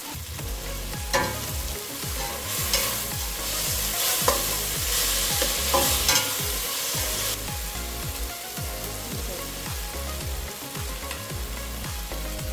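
Biryani ingredients frying in a pan while being stirred, with a continuous loud sizzle and steady rhythmic scraping strokes of a spoon throughout, close up with no talking.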